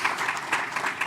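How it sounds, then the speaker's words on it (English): Audience applause for speakers at a national dialogue on health financing, heard as a short, brisk burst of clapping from a moderate crowd with uneven, overlapping claps. "I think they all need a round of applause."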